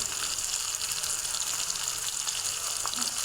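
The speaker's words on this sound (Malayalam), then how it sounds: "നമ്മൾ മീൻ പൊരിക്കുക." Fish rubbed with turmeric, chili powder and salt sizzles steadily in a hot pan, a dense, continuous crackle with a faint pop near the end and no voices.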